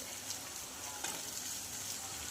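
Chopped round gourd (tinda) sautéing with dal in a pan gives off a steady, close sizzle, with soft scraping strokes as the mixture is stirred.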